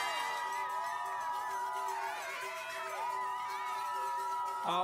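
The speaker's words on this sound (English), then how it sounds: "Big cheer from the crowd for the Swiss team." A crowd cheers and whoops for the Swiss mixed relay team at a cross-country skiing World Cup event in Engadin, Switzerland, a distant, sustained roar beneath prominent tonal music or announcements.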